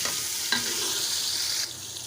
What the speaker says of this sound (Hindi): अब मैं इसमें डाल दूँगी टमाटर और सब्ज़ मिर्चें। इसको अच्छी तरह से भून लेंगे।